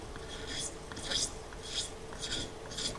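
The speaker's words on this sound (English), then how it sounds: "just scrape off the color like this" A mini sledge hammer's painted steel head is scraped clean with a blade held at about a right angle, giving five rhythmic, close rasping strokes with short pauses between them.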